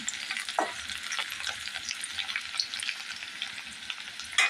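Half an onion sizzles in a hot pan for a vegetable curry of brinjal and potato, a steady close crackle of frying with occasional stirring scrapes and a louder burst at the end.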